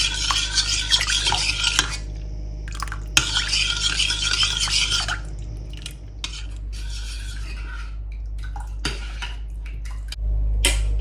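A spoon stirs homemade sathumaavu health-mix porridge in a pot to keep lumps from forming, with steady scraping and swishing in bursts and brief pauses, close and moderately loud, with no talking.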